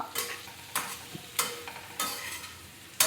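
Boiled potatoes are stirred into a sizzling pan for potato sabzi, with a spoon scraping through about every half second over a soft frying hiss.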